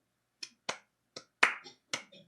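A single person claps out a sparse, uneven rhythm, with five or six sharp, close hand claps separated by brief silences in a quiet room.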